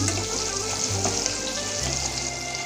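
Leftover fish oil sizzles loudly in a pan with a cumin tempering, a steady close hiss and crackle with faint stirring and no talking.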